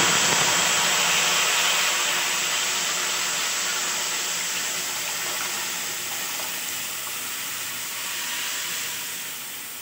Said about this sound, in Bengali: এবার সিদ্ধ করে রাখা ডালটা দিয়ে দিচ্ছি।